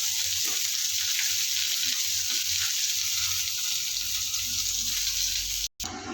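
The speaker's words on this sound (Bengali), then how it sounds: "মাছ ভাজা হয়ে গিয়েছে," Pona fish sizzle steadily in hot frying oil with a loud, continuous crackling hiss and faint scrapes, broken only by a brief drop near the end.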